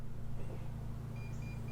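An ONNAIS keyless RV door lock gives a few short, faint high beeps on unlocking, sitting over a steady low engine-like rumble.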